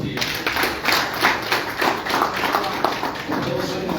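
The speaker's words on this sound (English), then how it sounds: "Okay, another round of applause" Audience applause at a World Press Freedom Day 2025 event, a steady dense patter of many hands clapping close and fairly loud for about four seconds.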